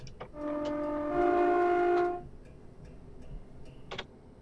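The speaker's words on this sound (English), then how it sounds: "There's a little whistle signal there." A train whistle sounds in Train Simulator 2017 on the St Albans Abbey branch line, one long steady tonal blast of about two seconds over a ticking cab background, followed by faint clicks.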